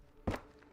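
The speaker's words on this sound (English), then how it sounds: "It's a phantom footstep" A single footstep in the survival shooter game Road to Vostok, one soft dull thud at close to medium distance, alone against a quiet background.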